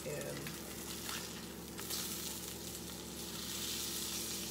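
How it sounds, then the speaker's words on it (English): A catfish fillet sears in a hot pan on high heat, giving a loud, steady sizzle and crackle throughout, close and continuous. "we're gonna get this one good sear on high"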